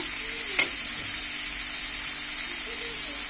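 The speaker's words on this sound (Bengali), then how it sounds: "এখন কিছুক্ষণ নাড়াচাড়া করব" Tomatoes frying in a pan give a steady close sizzle while a spoon stirs through them, with one sharp scrape near the start and no talking.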